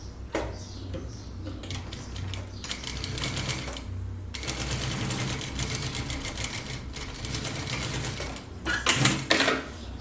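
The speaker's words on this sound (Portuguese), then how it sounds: "Eu vou passar uma costura bem na pontinha." A sewing machine stitches a seam along the edge of fabric for an A3, A4 or A5 folder, whirring steadily in close runs broken by brief pauses, with a few clacks toward the end.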